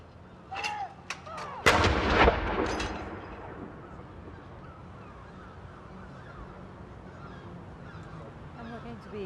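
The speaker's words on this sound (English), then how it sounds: "the Royal Navy, who are firing their guns in Portsmouth Dockyard" A Royal Navy ceremonial gun fires a salute at Portsmouth Dockyard, one loud booming report that rolls away over several seconds, with honking birds calling just before it.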